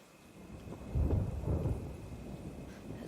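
Rumbling thunder rolls in two heavy swells amid steady rain, with no voices present.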